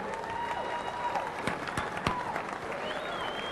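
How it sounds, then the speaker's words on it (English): Applause and some cheering from a gathered crowd greets the unveiling of an NBA Fast Break pinball machine, steady clapping filling the room for several seconds with a few sharper claps standing out. "let's have a round of applause for NBA Fast Break"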